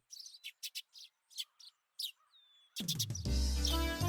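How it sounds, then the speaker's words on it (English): Morning birdsong from the Higurashi video game: a run of short, bright chirps and tweets in separate bursts, fairly close, before a loud swell of music takes over near the end. "When I woke up to the morning sunlight and birds chirping"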